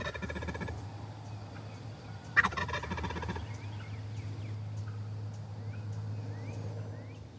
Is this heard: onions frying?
no